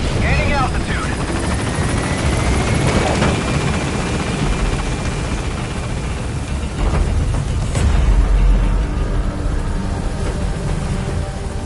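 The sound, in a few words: helicopter Pequod gaining altitude in video game Metal Gear Solid V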